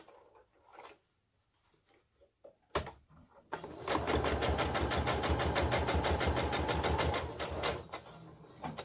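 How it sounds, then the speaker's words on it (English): Sewing machine stitching quilt fabric pieces for a beginner's Christmas present quilt block, running in a steady, loud, rapid mechanical rhythm for several seconds after a few quiet handling sounds. "go ahead and sew that"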